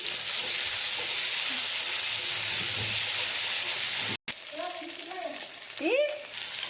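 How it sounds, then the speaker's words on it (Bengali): Steady sizzling of onions frying in a pan fills the first part, then cuts out briefly before quieter sizzle returns with a few higher chirping squeaks. "পেঁয়াজটা লাল লাল করে ভাজা হয়ে গেছে"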